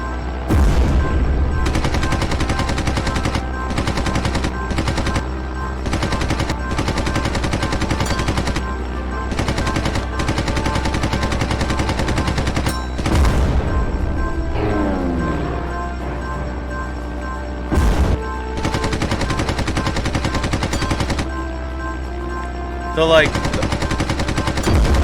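Rapid machine-gun fire from the video game Red Wings rattles in long, loud bursts broken by short gaps, with occasional heavier booms and someone talking over parts of it.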